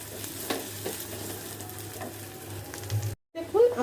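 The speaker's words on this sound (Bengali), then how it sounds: "দিয়ে এখন এটাকে ব্রাউন কালার করে ভেজে নেব" Two large chopped onions fry toward brown with a soft, steady sizzle and occasional stirring scrapes, then a brief break before louder clattering handling.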